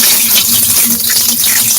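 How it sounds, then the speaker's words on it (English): Rinse water gushes and splashes steadily out of a pot of rice, a loud, continuous pour close by with no talking. "So I usually do just 3 rinses just to get some of the starch off of there, and I pour it out"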